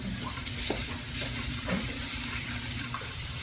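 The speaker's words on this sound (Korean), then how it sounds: "위에 양파 볶아주시고요" Onions and garlic stir-fried in oil in a pan, heard as a steady close sizzle broken by soft scraping strokes and light clicks of a utensil.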